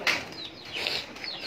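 Pigeons' wings flap in a short, soft flurry of fluttering beats at close range during a pigeon-keeping session with large, clean flying birds, with no voices present.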